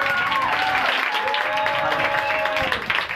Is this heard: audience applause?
yes